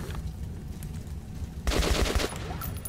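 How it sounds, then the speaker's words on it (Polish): Machine gun fire in the video game Metro Last Light Redux, a loud rapid burst of shots arriving after a quieter stretch of low game ambience. "Dobra, postrzelamy się trochę, niestety musimy."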